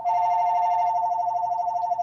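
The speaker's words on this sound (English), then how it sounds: "We have a landline and we get a million. Yeah. And I can't turn the ringer off." A landline telephone rings with a steady electronic tone, a single sustained ring heard close and clear, with no talking over it.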